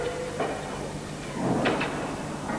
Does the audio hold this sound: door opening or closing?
yes